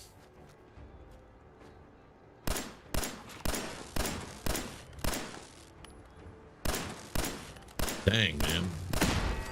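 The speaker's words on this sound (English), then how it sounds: "We did hear a turret." Turret gunfire in Fallout 4 comes as a run of sharp, loud shots in a steady rhythm, about a dozen bursts with brief pauses, and a player talks briefly over them.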